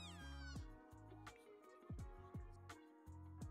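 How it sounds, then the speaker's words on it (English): A house cat meows several times in quick succession, a series of close, fairly quiet, drawn-out calls with short pauses between them and no talk over them. "my youngest cat is over here"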